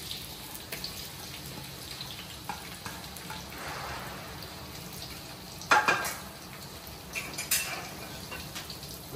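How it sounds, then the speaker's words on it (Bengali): Chopped onions tip into lightly heated oil and fry in a low, quiet sizzle, with a brief clattering burst midway and a few soft pan knocks after; no talking. "এখন পেঁয়াজগুলো আমি ঢেলে দেব।"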